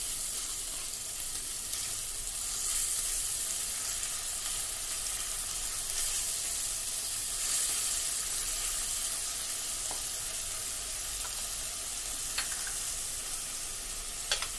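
Onion, garlic and ginger paste for aar macher kalia sizzles steadily in a hot pan, an even bright hiss with faint crackles throughout and no voices.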